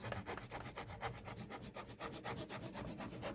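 A hand rasp is worked over the leather welt of a handmade blue Oxford shoe, a quick, regular series of close, dry scraping strokes, about five per second, heard alone.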